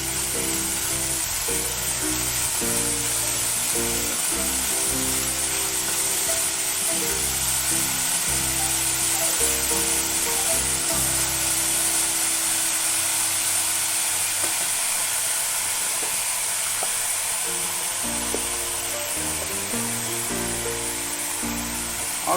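Salt and turmeric are stirred into drumstick flowers frying in a pan, with a loud, continuous sizzle and scraping stirring throughout.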